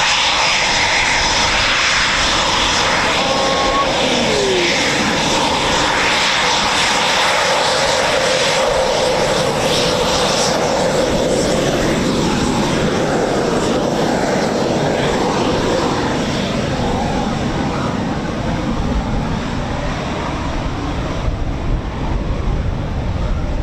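Eurofighter Typhoon FGR4 jet engines at RAF Coningsby's quick reaction alert station roar loudly and steadily throughout, a sustained broadband rumble and whine heard from nearby outdoors.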